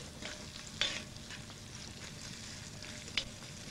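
Food sizzles steadily in a wok with olive oil, a soft continuous frying hiss with a couple of brief sharper clinks or pops, no voices.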